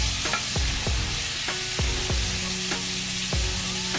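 Shrimp searing in a hot pan give off a continuous sizzle, broken by a regular series of sharp clanks and scrapes as they are stirred and turned.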